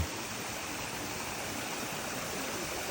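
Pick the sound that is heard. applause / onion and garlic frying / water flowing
water flowing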